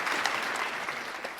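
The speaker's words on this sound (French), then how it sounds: "On les applaudit bien fort, s'il vous plaît." An audience at the opening ceremony of a national eloquence contest keeps up steady, moderately loud clapping, a continuous crowd of hands heard at a slight distance without talk over it.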